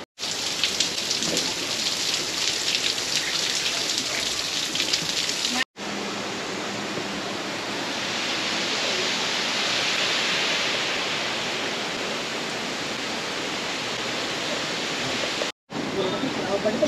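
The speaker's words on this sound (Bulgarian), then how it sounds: "Може да видите водопада." A waterfall in Switzerland's Lauterbrunnen valley near Wengen makes a steady, loud, hissing roar that runs almost unbroken, with two short abrupt cuts.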